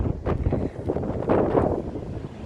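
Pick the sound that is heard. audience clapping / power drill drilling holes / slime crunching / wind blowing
wind blowing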